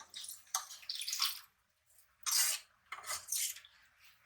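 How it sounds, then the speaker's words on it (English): Water is poured into a pot of dal with papad on a home stove, splashing and trickling in several bursts with short pauses between, close and fairly quiet. "And we will add some water."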